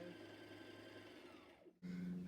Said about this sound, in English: I'm just going to sew this together with a very simple sewing machine